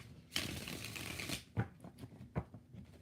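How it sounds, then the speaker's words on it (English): Tarot cards being riffle-shuffled during a live reading, with a long dense shuffle at the start followed by two short, sharp card snaps, heard close up with no talking. "6 shuffles."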